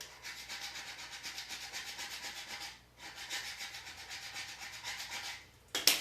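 Steady scraping rubs of transfer tape being burnished onto a tumbler, two long passes of close, dry friction separated by a brief pause, with a sharper crinkle at the end.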